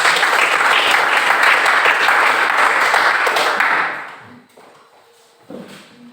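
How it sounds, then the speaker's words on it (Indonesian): A classroom full of people claps steadily for several seconds, then the applause fades out, leaving quiet with a few small knocks. "Silakan berikan tepuk tangan."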